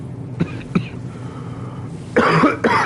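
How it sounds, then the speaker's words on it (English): A man coughs in short harsh bursts, two quick single coughs followed by a longer, louder fit of rough coughing, close to the listener. "sorry, y'all, man, I'm coughing"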